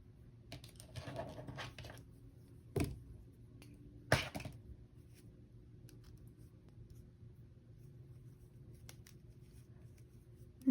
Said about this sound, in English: you're also just going to take your scissors and snip off the main yarn